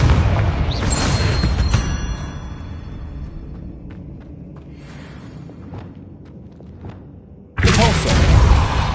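A Confringo fire spell blasting in the wizarding game Hogwarts Legacy, a loud booming burst at the start that rumbles and fades, then a second heavy explosion erupts near the end, with game effects between them.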